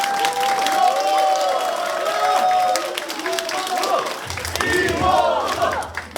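Crowd applause and cheering at a Reform Party campaign office opening for a candidate in Hwaseong, with a voice ringing out over the clapping and noise lasting throughout.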